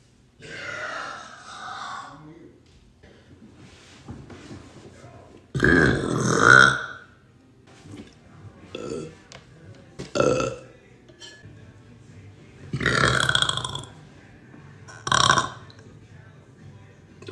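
A person lets out a series of deep, loud burps in separate bursts, some long and rumbling, with short pauses between them and faint background sound.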